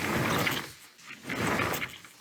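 A sliding sash window is dragged along its track on worn rollers that no longer roll properly, so the sash judders and bounces. There are two rough scraping passes, loud and close, with a short pause between them.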